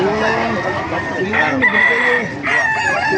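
Roosters and hens at a Baliuag market crow and cluck in repeated loud calls close by. Two or three crows overlap a busy background.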